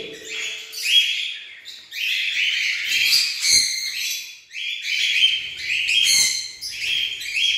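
Pet cockatiels and African lovebirds in an aviary colony chirp and tweet in dense overlapping bursts, high and busy, with brief pauses between flurries and a faint low tone at the start.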